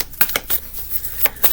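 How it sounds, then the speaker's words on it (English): Tarot cards being shuffled by hand, a few quick papery riffles and slaps in short bursts, close and fairly clear with no talking. "let me give this a few shuffles and then we'll continue"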